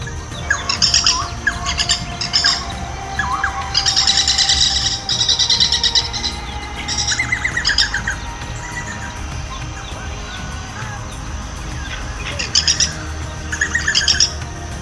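Repeated bird calls played from a birding app in Uganda, bursts of high chirps and trills recurring over a noisy outdoor background, fairly close and loud.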